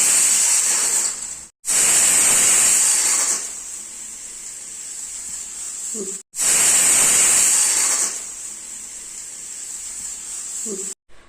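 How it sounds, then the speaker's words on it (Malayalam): A pressure cooker cooking rice lets off its whistle in two long hissing bursts, loud and close, each fading into a softer steam rush before a brief pause. "ഇതാ നമ്മുടെ ചോറിൻ്റെ വിസിലൊക്കെ ഒന്ന് പോയിട്ടുണ്ട്"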